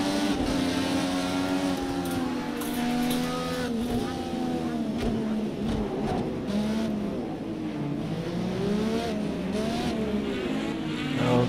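Race car engines in Project Cars 2, several cars droning and revving together at close range, pitch swelling and falling as they accelerate, a steady loud roar throughout with a voice speaking over it.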